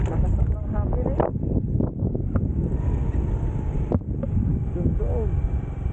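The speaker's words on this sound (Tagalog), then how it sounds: "Lakas ng hangin eh." Strong wind buffets the microphone along a roadside at a highway construction area in Sariaya, Quezon, producing a steady, loud low rumble with gusts, while someone talks over it.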